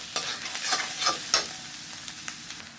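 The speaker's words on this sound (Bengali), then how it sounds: "আমি তেলের সাথে নেড়ে চেড়ে মিশিয়ে নেব" Spices sizzle in hot oil in a pan for a desi rooster curry while a spoon scrapes and stirs them in repeated uneven strokes, close up, with no talking.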